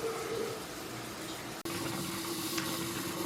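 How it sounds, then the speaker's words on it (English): Water runs steadily as a hot water tank drains in a bathroom, a continuous hiss and rush with a faint tonal hum. A brief drop near the middle is followed by the same flow, with no talk. "Attempting to drain the hot water tank here."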